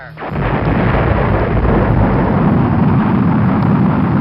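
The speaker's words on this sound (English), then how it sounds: "A small capsule of ashes rides along with a real rocket." A real rocket carrying memorial ashes lifts off, a loud, sustained roaring rumble that starts abruptly and holds steady and heavy throughout, with no voices.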